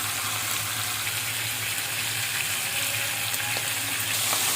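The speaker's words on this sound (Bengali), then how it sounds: "বাটা মাছগুলো ভাজার জন্য কড়াই দিয়ে দিয়েছি।" Bata fish sizzling in oil in a wok, a steady, loud, continuous frying hiss with faint low hum beneath and no voices.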